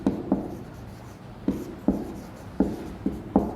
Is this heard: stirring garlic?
no